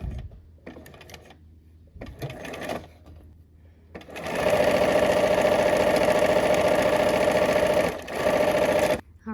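Domestic sewing machine running a straight seam with backstitching: two short bursts of stitching, then a long steady whirring run with a brief pause near the end, close and alone.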